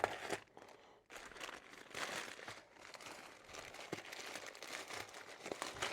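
Parcel packaging holding car parts being opened by hand, with continuous close crinkling, rustling and tearing of plastic and paper, faint and uneven, with no talk.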